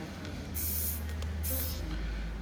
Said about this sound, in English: So let's say I'm going to spray in this area, okay?